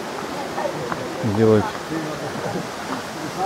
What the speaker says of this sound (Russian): Горная речка, идем к водопаду.